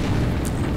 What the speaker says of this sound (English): a series of explosions tell me I should slow down